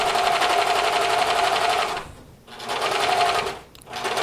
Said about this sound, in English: my intention is to just barely overcast the edge and cut off any